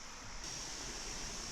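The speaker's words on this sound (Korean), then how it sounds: "무지치 폭포 상단에 올라와 있습니다. 폭포의 시작이 저 자그마한 물부터 시작합니다." Water pours steadily from the top of Mujichi waterfall on Unaksan mountain, a constant rushing hiss heard nearby with no voices.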